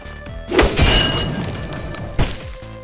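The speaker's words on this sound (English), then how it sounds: "Let's just hit this thing with an iceberg gun." An iceberg gun ice attack in the video game Epic Battle Fantasy 5 hits with a loud shattering crash and whoosh, followed by a second sharp impact near the end.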